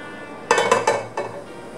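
A metal cooking pot on a stove clanks and scrapes several times in quick succession, close by, then a final knock after a short pause.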